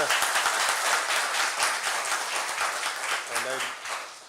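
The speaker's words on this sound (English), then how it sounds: "a big applause goes to Mr. Ahuja." An audience in an auditorium at a memorial lecture claps steadily throughout, dense and fairly close, with a brief voice breaking through near the end.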